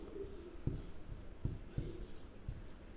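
A pen writes by hand in a diary, giving faint scratchy strokes with a few soft taps, quiet and close in a calm room.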